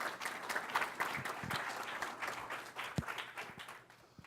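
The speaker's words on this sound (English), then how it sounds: "So let's give them a round of applause." A city council meeting audience applauds, quiet and somewhat distant clapping from a modest crowd, steady with a few louder individual claps near the end.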